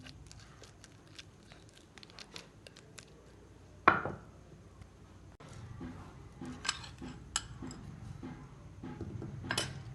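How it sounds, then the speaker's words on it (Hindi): Ripe bananas being mashed with sugar in a bowl: soft squelching presses and scattered utensil clinks against the bowl, with one sharper knock partway through, close and moderately quiet, with no voices. "इसको हम इसमें मैश करेंगे अच्छी तरह।"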